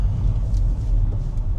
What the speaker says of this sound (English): The car is driving perfectly fine.